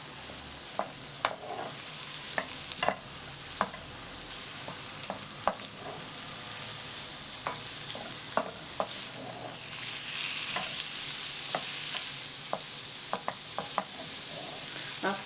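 Onions and peppers sizzle and fry in olive oil in a pan for a Provençal cod dish, a steady close hiss with irregular clicks and scrapes of stirring throughout, no voices.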